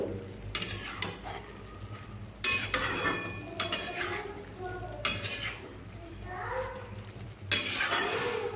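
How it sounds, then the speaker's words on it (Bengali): Chopped tomatoes being stirred into bottle gourd curry frying in a pan, with a steady soft sizzle under repeated scraping strokes of a spoon, several loud bursts of stirring spread through the clip. "আমি আবার একটু এইভাবে টমেটোটাকে মিশিয়ে নেব"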